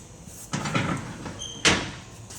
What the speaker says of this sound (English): And then you've got your steps that just fold up.